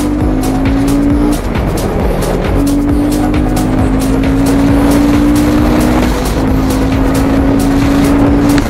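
Royal Enfield Guerrilla 450 motorcycle revving hard and accelerating to overtake, a loud, close engine whose pitch climbs steadily in three long rising pulls with brief dips for gear changes, and strong wind and road roar underneath.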